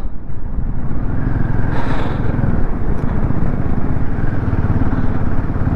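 A motorcycle ridden at night on a rough road in Ladakh, its engine droning loud and steady throughout with wind and road rumble, no talk.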